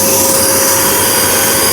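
A vacuum cleaner runs continuously at high power, drawing about 900 watts. It makes a loud, steady, broadband whoosh and whine with no talking.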